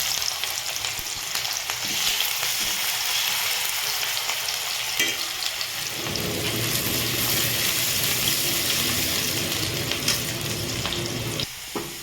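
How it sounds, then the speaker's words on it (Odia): Three medium sliced onions frying in a pan for chicken biryani, a loud, continuous sizzle with stirring scrapes and a brief splash of water, no talking. "ପ୍ରଥମେ ପିଆଜକୁ ଫ୍ରାଏ କରିବା।"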